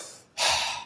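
A single deep breath taken during a breathing exercise, drawn in close and loud for a moment after a brief quiet start, with no talking.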